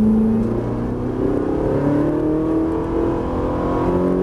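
Ferrari 458 Italia accelerating on a racetrack during a driving course, heard from inside as a loud, steady engine drone whose pitch climbs smoothly, with rising harmonic whine throughout and no talking.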